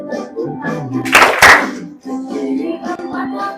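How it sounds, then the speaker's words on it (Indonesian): A class of about twenty eighth-grade pupils claps hands together during an ice-breaking movement game, a short burst of applause-like clapping in the middle with a voice talking before and after it. "Tepuk tangan."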